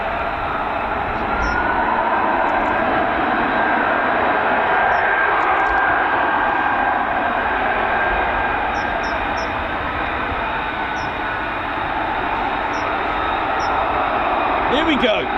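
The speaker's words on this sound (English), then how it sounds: "As they taxi past the Reggie assault course." F-35B stealth fighter jets taxi past an assault course at RAF Marham, their engines a steady, loud roar that holds through the whole stretch with a constant high whine riding above it.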